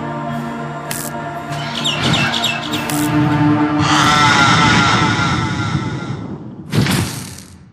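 A bird in the Garten of Banban video game gives harsh, loud squawks and chirps over a few seconds, with a thud and clatter near the end, alone, without any talk.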